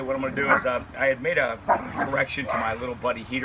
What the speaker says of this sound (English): I apologize for the dogs going crazy and all